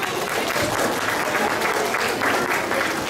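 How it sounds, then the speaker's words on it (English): Steady, dense applause from a graduation audience at a Balavihar ceremony, sustained at an even loud level throughout with no pause. "Please give them another round of applause"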